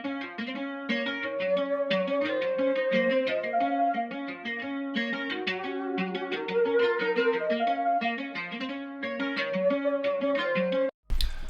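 Sampled flute melody in a beat-making session, processed with low and high effects, playing a bouncy repeating phrase with steady layered tones throughout, then a brief dropout and re-entry at the very end.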